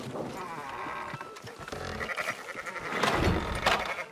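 Sheep bleating in the video game Red Dead Redemption 2 over a busy background, several wavering calls overlapping, the last ones louder and nearer.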